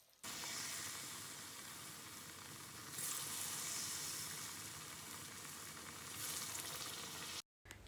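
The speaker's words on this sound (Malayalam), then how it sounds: "നല്ല ചൂടായ എണ്ണയിലിട്ടിട്ട് ഇതൊന്ന് വറുത്ത് കോരിയെടുക്കുകയാണ് ചെയ്യണത്" Battered potato pieces deep-frying in hot oil for a Malayalam snack, a steady loud sizzle and crackle running continuously and alone, with brief swells of brighter hiss partway through before a sudden short cutoff.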